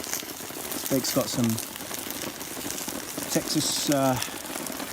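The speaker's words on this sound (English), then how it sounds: "So yeah, chucking down the rain" Steady heavy rain drums on a camping tarp as a steady hiss, with someone talking over it at a campsite where steaks, potatoes and onions are cooking.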